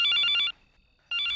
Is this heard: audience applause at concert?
no